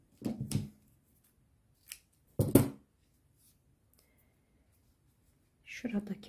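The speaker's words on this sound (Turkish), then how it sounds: "ipimi kesiyorum" Scissors snipping crochet yarn during amigurumi doll limb work, with a few short crisp cuts separated by pauses, close and fairly quiet, along with a soft rustle near the end.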